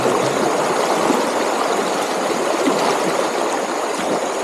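Steady, broadband rush of a flowing stream, loud and close, continuous for the whole stretch with no voices.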